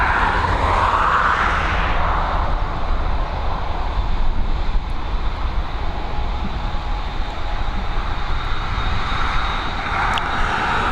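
An Egypt Air A320neo at Dublin Airport, heard near Runway 10R, gives off a loud, sustained engine roar with a broad, steady rumble and a faint whine, lasting throughout.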